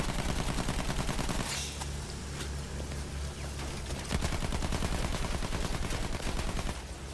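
Dense rapid gunfire from the video game Battlefield 1, bursts of automatic fire crackling almost continuously with a short lull in the middle, loud and busy throughout.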